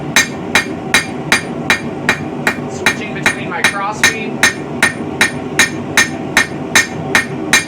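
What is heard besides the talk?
hammer flattening a medieval bodkin arrowhead on metal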